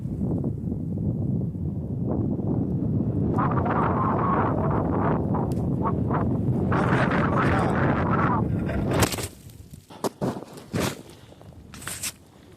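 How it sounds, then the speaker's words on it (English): Steady wind buffets the microphone in a low continuous roar on a frozen Michigan lake while ice fishing, with scattered rustles and knocks, then drops away into quieter gusts near the end. "I told you it was a windy day."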